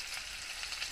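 Mutton chilli pieces fry in hot oil, giving a steady, bright sizzle with faint crackles throughout, close and continuous with no voices.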